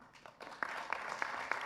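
A conference audience at a world council meeting claps, thin and scattered at first, then firming into a fuller patter with a few sharper hand strikes standing out.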